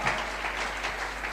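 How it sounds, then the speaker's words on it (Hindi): An audience at a stage function claps for children called up onto the stage, with dense, continuous applause filling the room and no voice over it. "तालियां हो जाए इनके लिए।"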